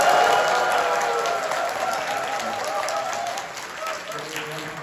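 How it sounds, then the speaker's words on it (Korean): A conference audience at COEX in Seoul breaks into loud, sustained applause with cheering, a dense wash of clapping that slowly tapers off over several seconds. "박수 합성 시작"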